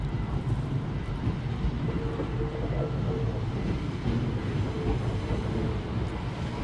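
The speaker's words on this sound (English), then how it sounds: "Oh, this is the very fast train." A train rumbles steadily past a city crossing in Seoul with a dense, continuous low roar and faint rhythmic clatter, moving at low speed through the intersection.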